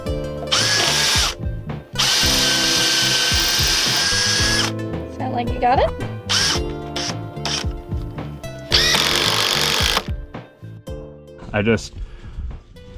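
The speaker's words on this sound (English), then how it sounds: "drilled the pilot holes and countersinks for all the screws I'm going to put down into that top plank" Power drill boring pilot holes and countersinks into a wooden top plank, several loud sustained whirring bursts separated by short pauses and tool clatter, with someone talking briefly in between.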